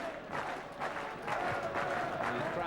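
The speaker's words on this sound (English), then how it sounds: "The crowd reacting with the slower hand clap." A football stadium crowd at a Bristol City v Preston North End match makes a distant, diffuse wash of clapping and murmuring, with loose, irregular swells rather than crisp individual claps.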